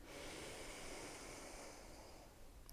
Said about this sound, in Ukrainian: Дихаємо тільки носом вдих.